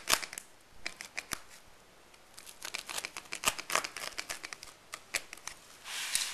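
Small knife cuts made across the edge of a cultural object during conservation care, heard as a series of quick, crisp snipping and crinkling ticks in uneven bursts, close and fairly quiet, with no talk.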